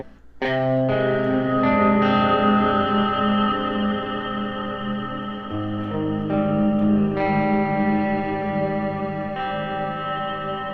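A Klowra Limbo reverb pedal with added texture washes sustained guitar notes into swelling, shimmering tails; layered chords ring and overlap, changing pitch a few times, loud and continuous with no talk.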